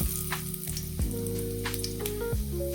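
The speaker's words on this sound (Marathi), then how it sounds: "आता भाजीची फोडणी मारते हे बघा यामध्ये मी जिरे टाकून घेतलेले आहे" Cumin seeds crackling in hot oil in a kadhai for a tempering, a dense close sizzle running throughout with a steady tonal hum underneath.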